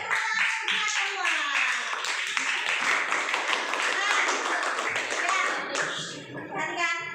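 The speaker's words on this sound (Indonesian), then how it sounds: "Beri tepuk tangan untuk semua." Sixth-grade classroom students clap their hands together in quick, rapid, fairly loud bursts for several seconds, with children's voices chattering over the clapping before it thins out at the end.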